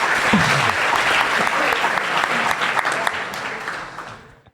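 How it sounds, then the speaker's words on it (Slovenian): Loud, close applause from a live talk audience honoring Klemen's grandmother, a dense burst of clapping that tapers off in the final second. "En aplavz za Klemnovo babi."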